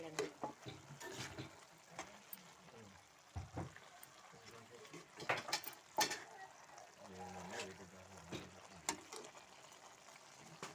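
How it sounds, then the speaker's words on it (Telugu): Cumin seeds and garlic frying in oil for a chancha leaf curry, a soft steady sizzle broken by scraping stirs and clinks, with a voice talking over it at times. "ఇదిగోండి జీలకర్ర వేస్తాం, వెల్లుల్లి వేయాలండి. ఇంకా బాగా ఫ్రై అవ్వాలండి."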